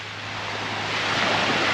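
Sea waves wash steadily on a Sicilian coast, a soft continuous surf hiss that swells slightly louder toward the end, with some wind and no speech.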